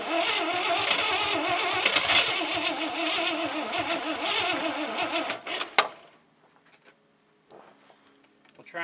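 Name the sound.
1967 International 1200 truck engine trying to start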